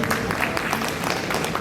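An audience at an indoor celebration applauds, a dense, steady wash of clapping from many hands that fills the short moment, fairly loud and near, with voices faintly mixed in.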